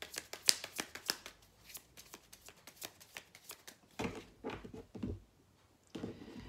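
Oracle cards of the Quebrada deck are shuffled and laid out in a rapid run of crisp riffling flicks, then softer slides and taps as cards are placed, close by with no talking.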